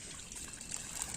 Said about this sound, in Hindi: ये देखो पानी डालो, पानी पानी हो गया